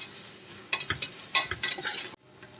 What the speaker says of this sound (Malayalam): ഇനി നന്നായിട്ടൊന്ന് വഴറ്റിയെടുക്കാം